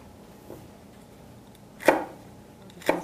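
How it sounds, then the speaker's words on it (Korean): A knife cuts celery for a beef stew on a cutting board, landing as two or three crisp, distinct chops spaced apart against a quiet room. "샐러리도 겉에 섬유질을 제거를 하셔서 같은 크기로 썰어 주도록 하겠습니다."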